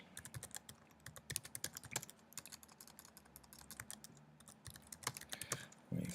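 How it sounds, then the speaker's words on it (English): Keys on a computer keyboard are tapped in quick, irregular bursts, close and fairly quiet, with brief pauses between runs of keystrokes. "I might start typing"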